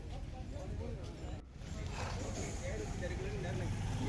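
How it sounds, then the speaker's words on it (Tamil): Hooves of horses, including two white horses, clip-clopping outdoors at a temple chariot festival in Anthiyur, amid a busy, noisy background, with voices talking over it throughout. "ரெண்டு வெள்ளை குதிரை சூப்பராக நின்றுருந்துச்சு"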